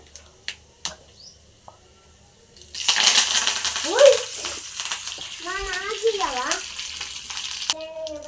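Curry leaves hitting hot oil for peanut chutney burst into a sudden loud sizzle that keeps hissing and crackling steadily, with a voice speaking over the frying.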